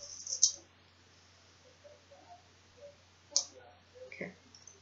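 Scissors snip through yarn while finishing a knitted child's cardigan, giving a few quiet, sharp clicks spaced over several seconds, close and faint against a quiet room.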